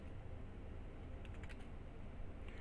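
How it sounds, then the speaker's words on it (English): Keys tapped on a computer keyboard, a quiet run of light clicks over a steady low hum, faint and close, with no voices. "Can you guys hear me type?"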